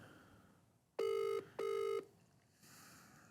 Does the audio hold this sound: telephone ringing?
yes